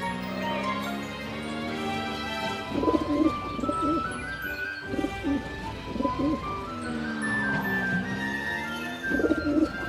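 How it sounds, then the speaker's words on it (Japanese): Pigeons coo softly a few times in a children's animated cartoon, rounded throaty calls repeating over a steady background of music. "鳩がいるよ"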